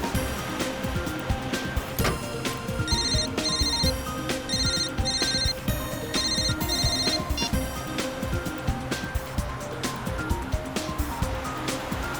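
A phone ringtone repeats its bright electronic trill over and over above a noisy, rumbling background.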